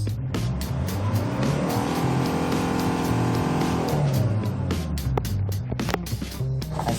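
A 2005 Hyundai Porter TCI double cab diesel truck with manual transmission revs up from idle, the engine pitch climbing and holding high before dropping back to a rattling idle, loud and close.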